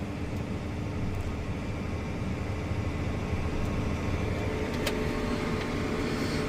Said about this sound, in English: Wait for this car while we fold up.